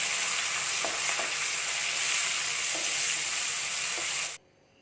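Sliced onion with turmeric powder fries in hot oil, a loud continuous sizzle with a few soft stirring knocks, cutting off abruptly near the end.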